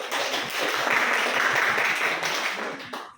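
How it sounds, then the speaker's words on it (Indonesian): A junior high school class claps for a student during a math lesson, giving a close burst of many hands that lasts about three seconds before fading quickly. "Tepuk tangan untuk Nadia."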